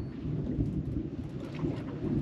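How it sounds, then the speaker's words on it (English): Deep thunder rumbles continuously through an offshore storm at sea, a loud, sustained low roll with faint rain hiss mixed in and no voices. "Big old thunder in the background."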